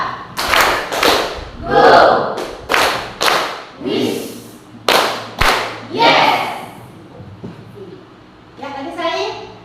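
A class of children claps rhythm patterns in short, loud bursts of group handclaps, spaced about a second apart, as a teacher calls out instructions between them.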